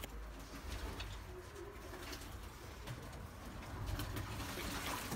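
Pigeons coo softly in a breeding loft with eggs in the nests, repeated low murmuring calls over a quiet background with faint splashing water from a bathing bird and no speech.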